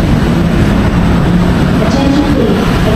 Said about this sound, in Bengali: দূরে দেখা যাচ্ছে ট্রেন আসতেছে।